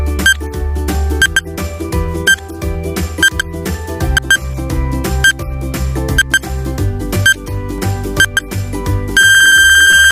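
A quiz countdown timer effect plays as a steady, repetitive electronic tune with regular beeping pulses, ending in a bright sustained tone, with no voices.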